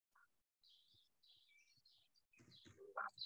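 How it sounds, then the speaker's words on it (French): Small birds chirping outdoors near a herd of mares, a run of thin high-pitched calls, faint and distant, with some louder noise near the end. "On entend les petits oiseaux."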